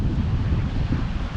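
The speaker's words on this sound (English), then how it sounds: "It's very windy, so hopefully you can hear me." Strong gusting wind buffets a microphone outdoors in a steady, loud low-frequency rumble that fills the whole moment with no voice.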